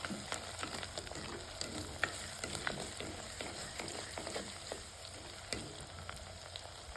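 Ingredients sauté in an earthen clay pot, a soft steady sizzle with irregular scraping and stirring clicks from the spoon against the clay, close and fairly quiet, with no talking.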